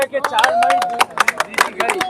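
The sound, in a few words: crowd clapping at a rally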